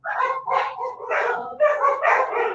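A dog barks repeatedly in a close, loud series of yappy barks and yips that run almost continuously with short gaps, standing out over quiet background talk.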